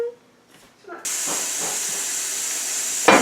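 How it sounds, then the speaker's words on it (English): A pressure cooker boiling eggs lets out a loud, steady hiss of escaping steam that starts abruptly and runs unbroken for about two seconds, following a quiet stretch. "while the eggs are pressure cooking"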